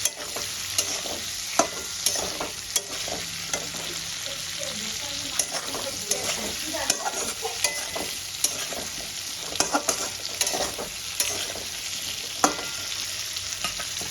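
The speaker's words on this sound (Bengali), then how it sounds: "নুন আর হলুদ দিয়ে দিয়েছি এবার আমি আলুগুলোকে ভেজে নেব" Potatoes fry in a pan with salt and turmeric over a low-to-medium gas flame. A steady, close sizzle runs throughout, broken by frequent sharp scrapes and clinks of a spatula stirring.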